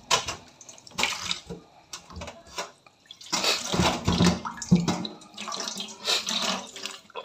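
A pork leg of about 1.5 kilos, destined for crispy pata, is washed under running tap water, close splashing and rushing in uneven bursts with short pauses between, no one speaking.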